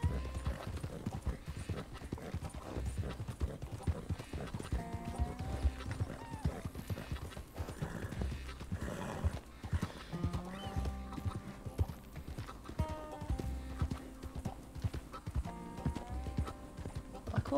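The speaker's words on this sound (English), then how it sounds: "There's one horse on the road." Horse hooves clip-clopping along a road in the video game Goldrush RP, a steady rhythmic trot heard over game music, with an occasional whinny and no talking.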